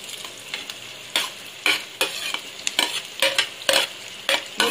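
Onions frying in a pan for chicken curry, stirred with a utensil that scrapes and clacks in repeated bursts over a steady close sizzle.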